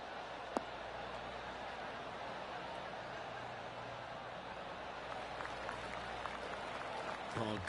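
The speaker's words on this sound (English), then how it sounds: "Oh, golf clap." Polite golf-clap applause from a small gallery in the PGA Tour 2K23 golf game rolls on steadily as a soft, even patter under the rest of the game sound.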